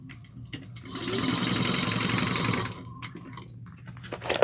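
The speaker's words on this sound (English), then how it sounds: "I'm just folding in my bag when I'm sewing" A sewing machine runs a steady, close stitching burst of about two seconds while a tote bag's fabric is fed through, with quieter handling noises before and after.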